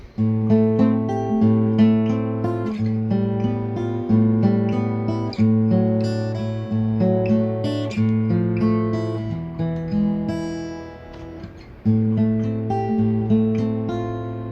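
Guitar strums a repeating chord pattern, shifting downward through a series of voicings with steady rhythmic attacks, played alone and close.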